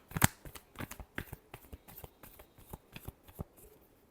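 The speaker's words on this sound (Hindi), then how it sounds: "Last shuffle." Tarot cards being shuffled by hand make a quiet, close run of soft, papery flicks and riffles in an uneven rhythm, with no talk.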